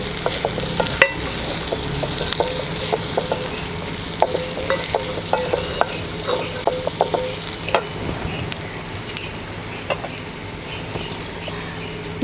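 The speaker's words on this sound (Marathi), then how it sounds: "थोडं तेल घालते। हे खसखस टाकते।" Poppy seeds fry in hot oil for a Maharashtrian gavran chicken dish, crackling in a loud, close, continuous sizzle with scattered pops and stirring scrapes.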